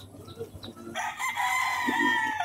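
A gamefowl stag crows at a game farm, a single sustained call that starts partway in and holds loud and near to the end, over faint background noise.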